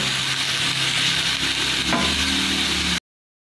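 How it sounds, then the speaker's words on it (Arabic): Onions frying in about two spoonfuls of oil in a pan, with ground meat added for a pasta bake, giving a close, continuous sizzle mixed with scraping stirs before the sound cuts off abruptly. "نزلت بالبصله على معلقتين زيت بالشكل ده كده"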